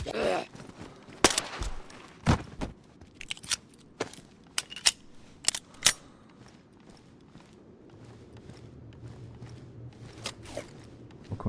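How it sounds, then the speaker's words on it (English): AK-74 rifle fire in DayZ: a series of sharp, cracking shots in irregular bursts, some close and loud, others fainter, spread across several seconds with quieter gaps between volleys. "what the hell was that? AK-74."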